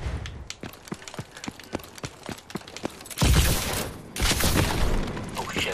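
Game gunfire from Call of Duty: Advanced Warfare on PC, a run of sharp separate shots followed by a louder, denser burst of firing and booms, close and with no talking.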